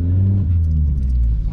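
A Vauxhall Corsa engine revs low and rumbling as the car is downshifted to first gear on a night drive in town, with steady close drone and a slight rise; no talking.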